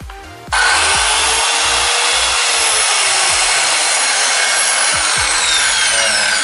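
A Crown CT15188-185 circular wood saw, rated at 1,500 W, spins up abruptly and then runs at a steady high-pitched whine, loud and close, with a few faint low knocks in the background.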